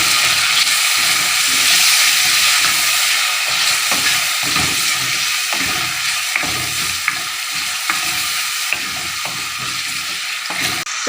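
A tadka for mash daal fries loudly in hot oil while tomatoes are stirred in, giving a dense steady sizzle broken by repeated spoon scrapes and clacks against the pan.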